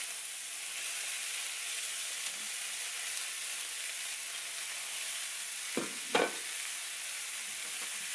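Ground meat sizzling steadily in a stainless steel pan, faint and even, with two quick scraping scrapes of a utensil breaking it up near the end.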